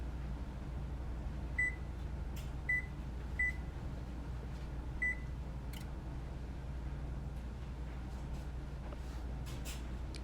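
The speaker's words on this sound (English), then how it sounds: "So now we're going to preheat our oven to" An oven's control panel gives four short, clear electronic beeps at irregular intervals as it is set to preheat to 170, over a constant low kitchen hum.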